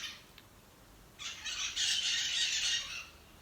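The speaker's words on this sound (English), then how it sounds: "You are very sassy, Mr. Bird. I feel like he's trying to impersonate me" A pet bird lets out a loud, harsh, sustained squawk close by, rising after a brief chirp and holding for about two seconds before fading, with no talking.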